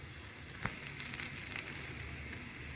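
Raw paratha cooking in ghee on a hot tawa, a faint steady sizzle and crackle with a small pop early on, quiet and unbroken.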